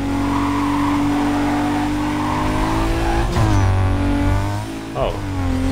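Race car engine droning steadily at high revs during a street race in Need for Speed Carbon, with pitch shifts as gears change and a brief tire squeal on a turn, while someone talks over it.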